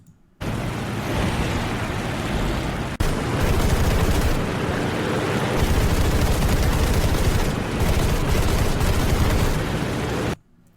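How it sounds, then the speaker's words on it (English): Quad 20 mm cannons on an A7M1 plane in War Thunder fire continuously in a loud, dense rattling burst lasting about ten seconds, briefly breaking once, alone without talk. "Did we hear the guns? Those are quad 20s"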